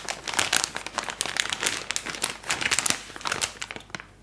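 Foam packaging insert pulled out of a Traxxas Sledge 6S RC car box during unboxing, a close run of crinkling and rustling handling noises, moderately loud and continuous.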